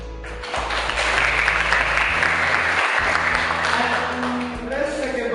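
Seminar audience applauding for the dean of technology, a loud, steady wash of clapping that rises quickly and fills the hall, with a brief dip near the middle before resuming.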